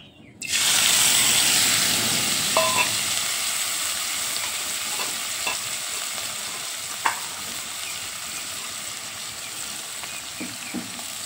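Oil heats in a hot karai, starting abruptly with a loud steady sizzle that slowly settles into a constant hiss, with a few faint clinks, before small chanda fish are added.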